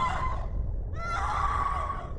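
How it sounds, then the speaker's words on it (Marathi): Shrill, wavering scream of a restless spirit trapped in a burning house, a horror sound effect that rises, breaks briefly, then resumes as a long anguished wail over a low rumbling background. "मदतीच्या आशेने ती अतृप्त अमानवीय शक्ती जीवाच्या आकांताने ओरडू लागली."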